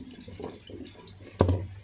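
Red beans, lotus root and mung beans getting washed in water for a Chinese herbal dessert: soft sloshing and swirling close up, ending in a brief louder splash.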